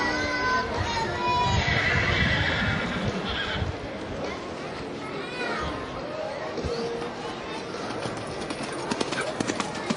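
Horses are ridden around a show arena at the Sydney Royal Easter Show, with repeated whinnies and hoofbeats under crowd noise and an announcer talking.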